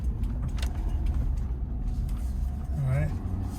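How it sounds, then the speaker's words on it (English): A 2022 Ford F-350 Super Duty pickup drives along a gravel road, its steady cabin rumble and road noise continuous and close throughout. "But this is me just driving around that same section of road."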